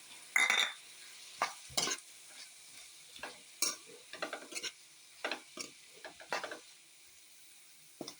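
Chicken and finely chopped tomato sauté in a pan, with repeated scraping strokes of a spoon stirring at an irregular rhythm over a faint steady sizzle, close and fairly quiet.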